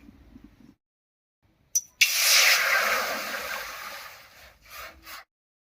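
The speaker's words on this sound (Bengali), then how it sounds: "এবার কড়াইতে জল দিয়ে দেবো" Water goes into a hot kadai just after spices have been fried for an amla pickle, setting off a loud, bursting sizzle that fades over a couple of seconds and ends with a few softer hissy spurts.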